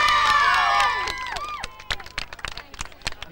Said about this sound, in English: Round of applause for Halley.